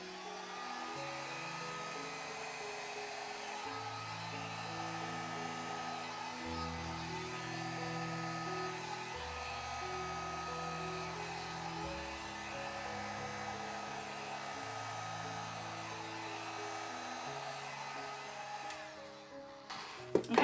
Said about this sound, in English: we're just going to use the blow dryer and blow it out a little bit